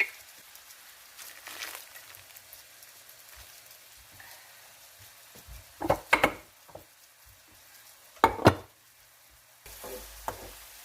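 Onions turning translucent fry in a pan as breaded, smothered eye of round is prepared. A soft background sizzle runs throughout, with a few louder bursts of stirring and clattering.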